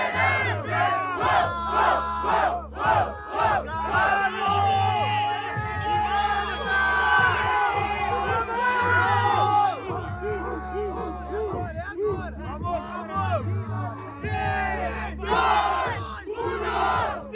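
A loud, dense crowd at a rap battle chants and cheers in rhythmic bursts, with whoops and yells rising over a steady pounding beat.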